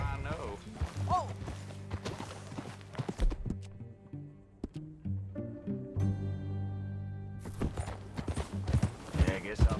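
Horse hooves clip-clopping at a riding pace in Red Dead Redemption 2, steady rhythmic beats under game music and speaking voices, with a brief whinny-like tone.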